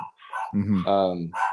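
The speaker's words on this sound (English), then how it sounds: "Sorry about the dogs." Dogs barking at home during a remote interview, with a few close, loud barks in quick succession and a short higher yip, with no talk over them.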